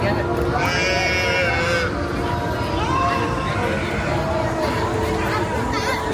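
Sheep bleating at a theme park, several wavering calls rising from a steady murmur of crowd chatter, moderately distant, with people talking throughout.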